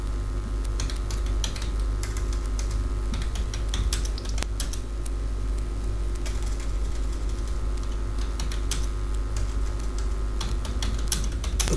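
Continuous rapid keystrokes on a computer keyboard while a visa application form is filled in, close and steady over a low constant hum, with no talking.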